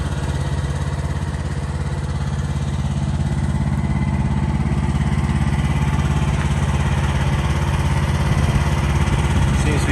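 The diesel engine of a 2023 AGT QH-12 mini excavator runs at a steady idle, a loud, constant rumbling drone close by for the whole stretch with no break.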